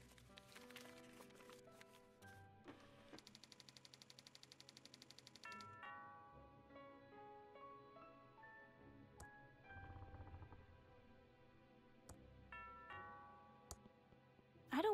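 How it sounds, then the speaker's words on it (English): A chiming electronic doorbell rings out in Thimbleweed Park over soft game music, its bright tones repeating against a quiet, steady background. "That sounds like the doorbell."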